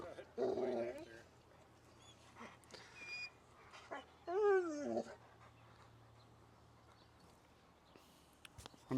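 A reactive Mexican street dog whimpers and growls in short bursts while meeting other dogs, with whiny yelps near the start and again midway, separated by quieter stretches and a low steady background hum.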